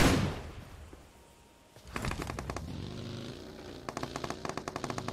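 UMP submachine gun fire in a mobile battle royale game: a quiet lull, then rapid bursts of sharp shots crackling in quick rhythm, fading briefly before another fast burst.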